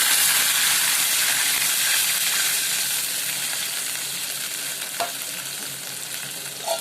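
Water is poured into a hot pan of fried ingredients, setting off a loud, close, hissing sizzle that fills the whole stretch and slowly eases, with a couple of faint clinks.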